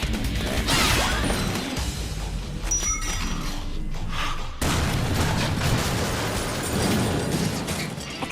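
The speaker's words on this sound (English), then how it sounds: "Explosions are such a cliche." Explosions and crashing blasts from the video game Lollipop Chainsaw, dense and continuous booms with debris clatter filling the whole stretch, loud.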